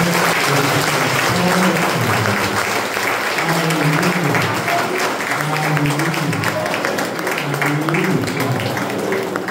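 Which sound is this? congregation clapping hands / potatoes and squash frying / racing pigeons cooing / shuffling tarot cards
congregation clapping hands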